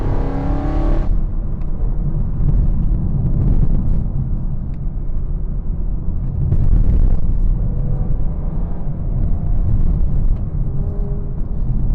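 BMW E92 M3 on the road, a steady loud engine drone with low rumble throughout, swelling slightly under light acceleration, with no voices over it.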